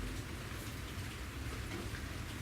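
Steady rain pours down alone, a dense continuous patter filling the short stretch with no voices or other sounds.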